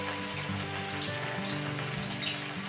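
Chicken pakoda deep-fries in oil with a dense, constant bubbling sizzle and fine crackles, close and steady throughout. No voices.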